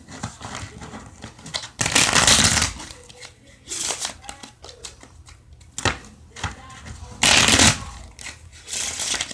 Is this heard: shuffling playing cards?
yes